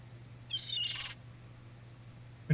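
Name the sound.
seagull noises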